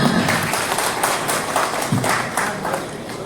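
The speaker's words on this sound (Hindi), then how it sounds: "तालियां हो जाए, कम ऑन एवरीवन।" An audience at a product launch event breaks into loud, close applause, a dense wash of clapping that holds steady across the whole stretch.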